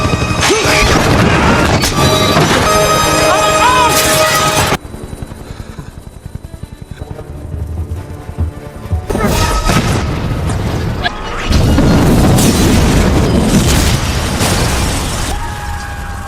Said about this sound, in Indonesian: Dirk pun berencana akan menggunakan meriam di kapal itu untuk memusnahkan helikopter Kajim